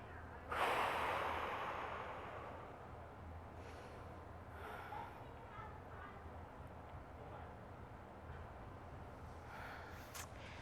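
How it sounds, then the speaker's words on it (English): A child or instructor breathes during a relaxation exercise at the end of a kids' Brazilian jiu-jitsu class, with one strong breath early on followed by quieter, faint breathing over a low room hum. "Breathe."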